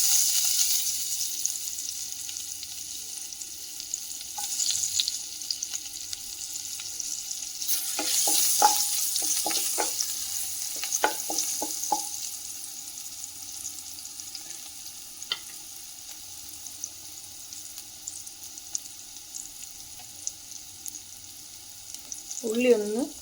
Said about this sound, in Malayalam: ഇപ്പോൾ ചൂടായ ബട്ടറിലേക്ക് കുറച്ച് എണ്ണ കൂടി ചേർത്ത് കൊടുത്തിട്ടുണ്ട്. ഇനി ഇതിലേക്ക് ഒരു 3-4 ചെറിയ വെളുത്തുള്ളി അരിഞ്ഞത് ചേർത്ത് കൊടുക്കാം.